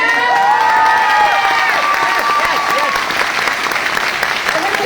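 An audience claps loudly and cheers at a speaking event, dense steady applause with excited voices and shouts mixed in throughout.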